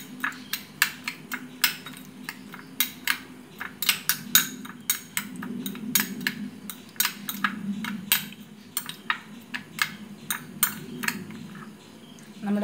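A spoon scrapes and clinks against a pan while pizza sauce with salt and ground pepper is stirred, giving a steady series of sharp metallic taps over a low simmering hum, with no talking.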